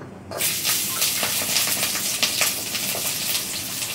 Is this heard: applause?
no